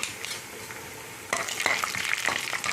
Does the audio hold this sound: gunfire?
no